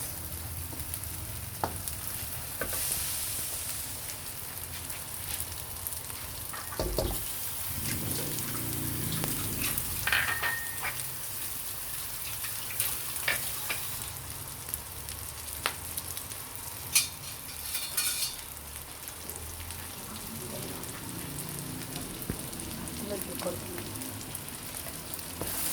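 Homemade XO sauce fries in a pan with a steady crackling sizzle, broken by scraping, clinking stirs of a utensil against the pan throughout, close and moderately loud.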